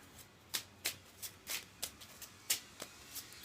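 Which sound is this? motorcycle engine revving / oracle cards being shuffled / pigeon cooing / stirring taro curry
oracle cards being shuffled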